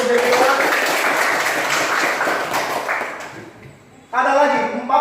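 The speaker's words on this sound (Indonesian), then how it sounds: "Tepuk tangan untuk Jennifer." A classroom of students claps for a classmate, a dense burst of applause lasting about three seconds that fades out, followed by a teacher speaking.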